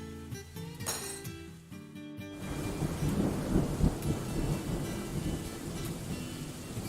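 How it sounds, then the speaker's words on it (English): In the Dwarf Fortress game, a thunderclap rolls in and then gives way to a dense, steady downpour of rain, fairly close and loud, with no talking. "So sorry about the rain, people."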